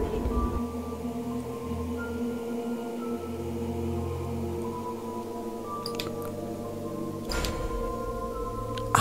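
The eerie Javanese song Lingsir Wengi plays back from a phone video recorded in hotel room 203, heard as steady, wavering sustained tones layered over a low drone, continuous and fairly loud, with no talking.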